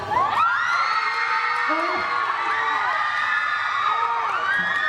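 Audience at an anime convention stage event screams, cheers and whoops loudly and continuously, a dense crowd roar with high-pitched shrieks throughout.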